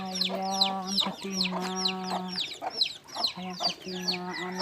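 Chickens cluck and call repeatedly around a farm coop in rural Blora, Central Java, with a rooster-like voice among them, close and fairly loud in quick overlapping bursts.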